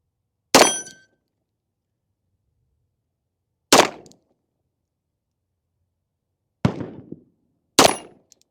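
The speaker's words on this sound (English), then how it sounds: "we're going to do some shots with this gun and see how we do" Four sharp metallic rings from a Beretta 92D pistol's rounds striking steel gongs at an outdoor shooting station, each a loud clang with a short fading decay, spaced irregularly over several seconds with silence between.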